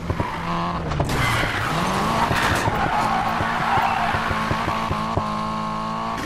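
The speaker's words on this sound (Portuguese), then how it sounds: "Vamos começar com um drift de rua." A Nissan Silvia drifts through a street run in Need for Speed Payback, its tires skidding and squealing loudly and continuously over a rising, revving engine for the whole stretch.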